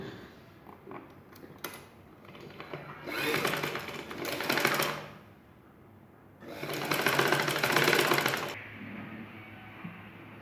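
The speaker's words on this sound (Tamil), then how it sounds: "இப்போ ரெண்டு பக்கம் ஸ்டிச் பண்ணி முடிச்சாச்சு." A sewing machine stitches a blouse in two loud bursts of rapid, whirring needle strokes, with quieter handling and pauses around them.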